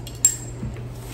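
A teaspoon clinks once sharply against a dish while salt is measured in a home kitchen, followed by a softer faint tap over a steady low hum.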